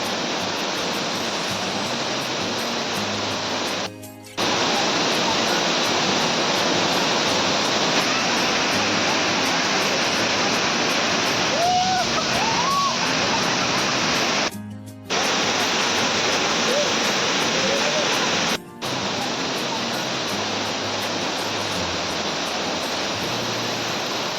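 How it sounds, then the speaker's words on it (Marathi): A rain-fed monsoon waterfall in the Konkan roars as a steady, dense rush of water, broken by a few brief dropouts. "बघा मागे बघा दिसत असेल तुम्हाला वॉटरफॉल"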